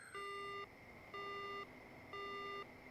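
In the video game Death Mark, a dead phone line gives three even, evenly spaced electronic beeps, clear and steady above a low hiss, with no speech.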